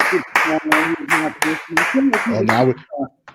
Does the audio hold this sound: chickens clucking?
no